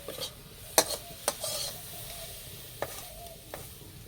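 Coconut filling for semolina pitha is stirred and cooked dry in a pan, with a soft background sizzle broken by several sharp spoon scrapes against the pan, alone and close.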